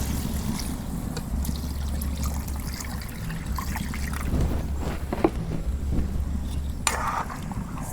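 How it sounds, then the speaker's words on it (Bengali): Water poured into chicken being cooked for a spicy chicken jhal curry, a steady trickling and splashing pour heard close over a low hum, with a few clinks of utensils near the end. "এখন আমি পানি দিয়ে দিব, একবার পানি দিব, আর পানি দিব না।"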